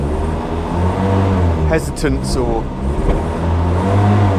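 A Land Rover Series III engine running steadily while the vehicle drives, a low continuous drone heard from inside with a brief voice partway through.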